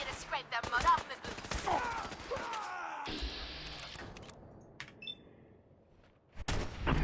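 Gunfire in Fallout 4 crackles in quick bursts of sharp shots, loud and close, followed by a quieter lull and then another abrupt burst at the end.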